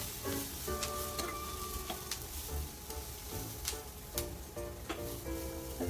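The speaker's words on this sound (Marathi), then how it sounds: "आता हो कांदा कांदा थोडा चांगला ब्राऊन कलर द्यायचा त्याचा." Chopped onion fries in a pan until brown, a faint, steady sizzle with occasional spoon scrapes and clinks from stirring.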